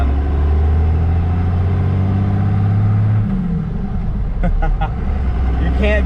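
A 1996 GMC 2500 with a swapped-in 12-valve Cummins diesel, turbo mounted up top, idles close by in a loud, deep, steady drone, then the note shifts as the engine revs, with a few sharp knocks near the end.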